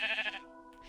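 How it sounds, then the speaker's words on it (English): A sheep in the Minecraft video game gives a single short bleat, close and clear, trailing off into a quieter tail with no talking over it. "Another sheep."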